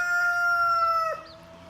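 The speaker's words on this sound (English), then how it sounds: "maybe we can get a good crow." A young free-range cockerel in a garden food forest gives a single clear, drawn-out crow lasting just over a second, moderately close, trailing off into quiet outdoor background.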